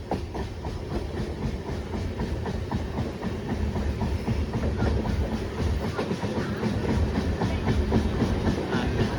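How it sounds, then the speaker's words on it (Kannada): Mysuru to Mantralayam Express train running along the rails, a steady loud rumble with rhythmic clickety-clack of wheels over joints and a faint hiss throughout, no voices. "ನಮ್ಮ ಟ್ರೈನ್ ನೋಡಿ ಎಷ್ಟು ಚೆನ್ನಾಗಿ ಕರು ಹೊಡಿತಾ ಇದೆ"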